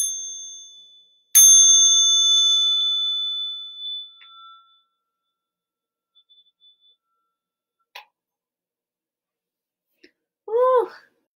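A small meditation bell is struck once, ringing out with a bright sustained tone that slowly fades over a few seconds in a quiet room, followed later by a few faint soft sounds.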